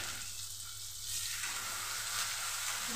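Chopped tomato frying in a pan, a soft continuous sizzle with gentle stirring, quiet and close, with no voices.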